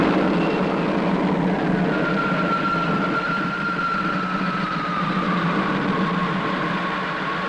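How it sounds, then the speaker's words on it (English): Spaceship engines start up for takeoff with a sustained, dense mechanical roar and hum, a faint whining tone gliding across it, steady and loud throughout with no voices. "Ready to lift. Takeoff program starting now."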